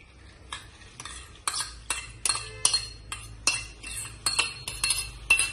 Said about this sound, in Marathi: आपण आता मसुरा घालून घेऊ।